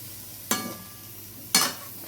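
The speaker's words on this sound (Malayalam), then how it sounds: "കുറച്ച് ഇട്ട് നമ്മൾ ഇളക്കുകയാണ്" Chicken pieces go into a hot pan for a home-style chicken curry, and two sharp bursts of sizzling and stirring rise and fade against a steady quiet background.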